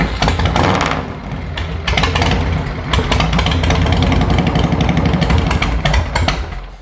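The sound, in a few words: motorcycle engine started and idling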